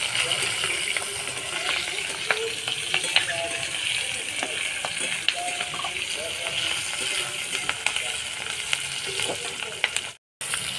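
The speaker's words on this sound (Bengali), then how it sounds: "এবার দো পেঁয়াজার জন্য তেলে দিয়ে দেবো" Sliced onions frying in hot oil for egg do pyaza, a steady broadband sizzle with occasional crackles and stirring clicks, close and continuous throughout.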